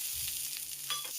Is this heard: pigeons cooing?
no